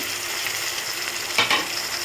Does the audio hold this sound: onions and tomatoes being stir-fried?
yes